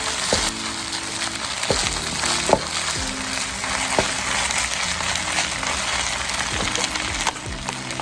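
Fried rice sizzles steadily in a hot pan, a dense continuous crackle with occasional scrape or stir clicks, close and fairly loud throughout with no voices.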